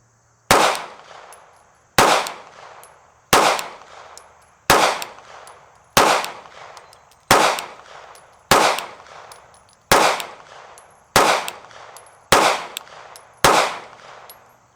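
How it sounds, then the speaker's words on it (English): Ten sharp gunshots from 124-grain Frontier reloads ring out one at a time at a steady pace about every second and a half, each loud crack trailing off into a short echo, with no talking between them. "So since they're here, I want to fire a 10-shot group."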